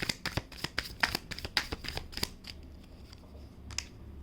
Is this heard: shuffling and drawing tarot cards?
yes